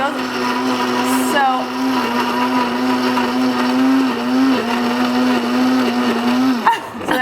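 A countertop blender runs steadily for several seconds whirring almonds into a vegan, gluten-free breakfast shake, a loud constant motor drone with a brief pitch shift near the start and a sudden stop at the end.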